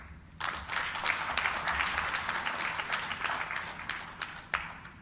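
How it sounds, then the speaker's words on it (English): Applause from a conference audience at an African democracy summit opened by the president, starting abruptly and continuing as a dense, steady clapping with a few sharper claps standing out near the end. "Please, a round of applause for our elders."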